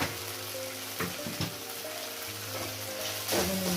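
Paneer fried rice sizzles and fries steadily in a pan while being stirred, with intermittent scraping and clinking of a utensil against the pan, close and continuous with no talking.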